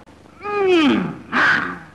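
A man imitates a lion's roar with his voice, a long falling growl followed by a second shorter, rougher burst, loud and close with nothing else heard.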